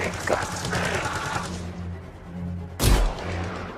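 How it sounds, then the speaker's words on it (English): Gunfire rings out in an open-world shooter game during a mortar fight, with a steady mechanical rattle and a loud, sharp blast near the end over game ambience. "Give me some covering fire."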